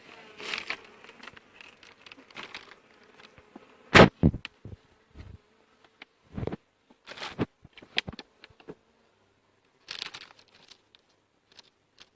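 Faint honeybee buzzing hums low in the background during hive mite treatment, broken by crinkling, tapping and rustling handling noises close by.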